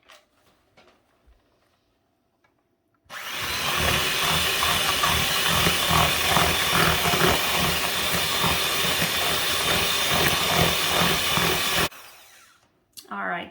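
Electric hand mixer whirring steadily through cookie dough ingredients in a bowl for about nine seconds, a loud continuous motor buzz with rattling beaters that starts and stops abruptly, with quiet kitchen handling before and after.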